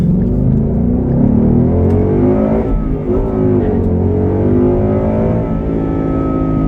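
A 2016 Ford Mustang GT V8 convertible with manual clutch accelerates hard, its loud, close engine rumble climbing steadily throughout; no distinct tire chirp stands out from the continuous roar.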